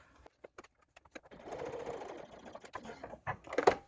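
A sewing machine sews down the edge of a paper-fabric pouch, starting with a few scattered clicks before a steady motor whir, then more sharp clicks and a louder burst at the end, close with no talk.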